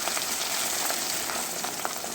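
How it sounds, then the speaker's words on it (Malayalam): Ivy gourd (kovakka) frying in coconut oil gives a steady, dense sizzle that holds evenly at close range, with no voices over it. "ഇത് വറുത്തെടുക്കുക."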